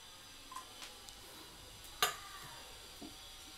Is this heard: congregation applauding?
no